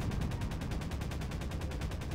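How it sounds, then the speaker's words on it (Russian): Rapid gunfire and rocket blasts in the sandbox video game Garry's Mod, a steady dense barrage of loud, repeated shots with no pauses. "Две ракеты, одна и вторая сразу."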